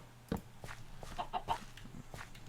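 Chicken clucks from the video game Minecraft, a few short, close, rhythmic squawks over faint game background sound.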